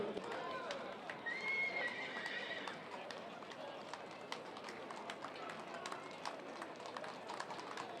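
Horses neigh and their hooves clop steadily on pavement during a village parade procession, a whinny rising early and the clip-clop continuing throughout beneath a talking announcer and crowd murmur.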